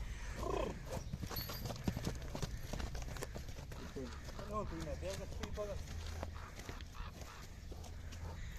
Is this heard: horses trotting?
yes